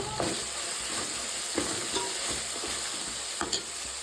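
Ginger garlic paste roasting in a pan with cinnamon and clove powder for a restaurant-style chicken dish, a continuous close hiss and sizzle broken by occasional spoon scrapes and taps, no speech.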